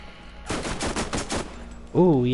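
Borderlands gunfire comes as a quick burst of about eight loud, rapid shots lasting roughly a second, followed by a brief warbling tonal sound.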